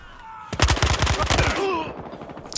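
MP5K submachine gun fire in the video game Battlefield Hardline, a loud rapid burst of about a second with faint talk around it.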